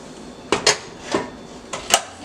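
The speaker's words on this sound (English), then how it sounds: "All I'm finna do is drain this and rinse these noodles" Metal pots and utensils clank in a kitchen while cooked pappardelle noodles are drained and rinsed, with four or five sharp clattering knocks in two quick pairs, fairly close and without talk.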